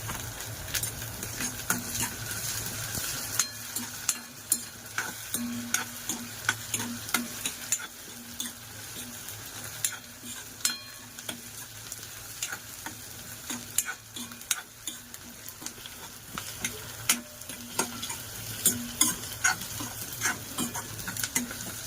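Masala paste for a dried bombil (Bombay duck) curry frying in a pan, with a steady sizzle and irregular scraping stirring strokes throughout, close and continuous with no talking.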